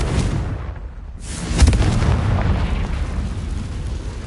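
A Confringo fire spell blasts in Hogwarts Legacy, a loud booming explosion that bursts out after a short quiet gap and then trails into a long rumbling roar.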